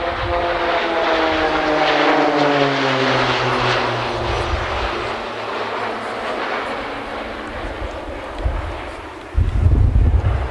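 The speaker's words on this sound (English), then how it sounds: "Roulette 4 is flying a barrel roll around the complete formation." A RAAF Roulettes propeller aircraft flying a barrel roll around its formation: a loud, steady engine drone with a sliding pitch as the plane passes, continuous and close, with a sudden louder burst near the end.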